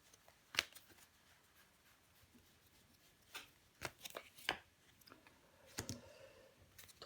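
Tarot cards are handled and laid down with a few sharp close clicks and soft slides, spaced irregularly over a quiet background.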